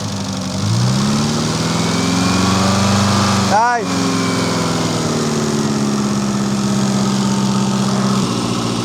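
A car engine burning cooking oil for fuel holds steady revs, a loud continuous hum running throughout, broken briefly by a short sweeping whine near the middle; a voice speaks a single word over it.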